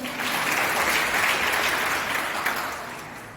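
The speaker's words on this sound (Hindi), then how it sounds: "फिर से जोरदार तालियां बजाएं।" An audience at a Hindi Day celebration applauds a speech contestant with a full, steady burst of clapping that slowly fades toward the end.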